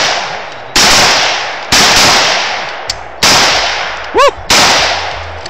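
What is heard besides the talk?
gunshots being fired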